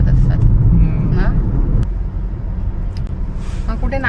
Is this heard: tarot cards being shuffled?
no